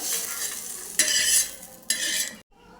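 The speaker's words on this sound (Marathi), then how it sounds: "टोमॅटो पण आपण चांगला भाजून घेऊया टोमॅटोमध्ये पण थोडंसं तेल टाकून घेऊया" Onion and tomato roast in oil in a pan, with steady sizzling interrupted by two loud bursts of stirring and scraping, then an abrupt drop to near silence at the end.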